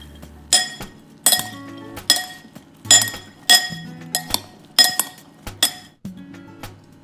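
Utensil clinking repeatedly against a glass bowl while beef sisig ingredients with lemon are mixed, about a dozen sharp, close chinks in an uneven rhythm with no talk.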